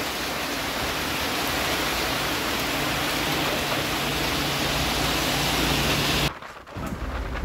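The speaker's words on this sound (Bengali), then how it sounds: "আর এই যে বৃষ্টি" Heavy rain pours down in a dense, loud, steady hiss that cuts off abruptly near the end.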